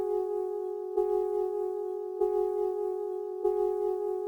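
Static synth key sample 'Clean Tech' from the Panorama pack, a dark sustained two-note harmony held steadily, with a soft pulse re-triggering about every second and a quarter, alone and clean.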